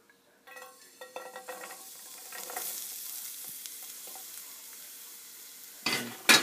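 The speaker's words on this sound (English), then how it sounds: "once the garlic is in here, make sure it's on low fire and keep stirring" Garlic frying over low heat in a pan while a utensil stirs and scrapes it, with steady soft sizzling, a cluster of clinks early on and a sharper scrape near the end; no talking.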